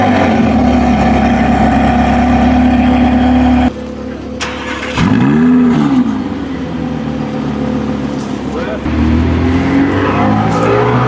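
A muscle car or supercar engine starts, then rumbles and revs hard in loud rising and falling sweeps, close by.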